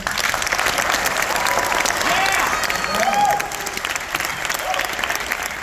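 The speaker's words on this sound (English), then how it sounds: "Clap for those guys." An audience applauds steadily at a school district jazz band concert, a dense wash of clapping with a few faint cheers and voices mixed in, easing off slightly toward the end.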